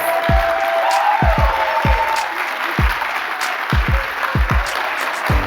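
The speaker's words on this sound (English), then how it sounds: "Please give one more round of applause to our CharMeck 2024 Young Adult Storytellers." An audience applauds young adult storytellers at a live storytelling show, with a moderate patter of clapping broken by several heavy, dull thumps.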